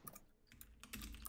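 Rapid clicking of fingers typing on a computer keyboard, a quick burst of close keystrokes heard alone with no talking.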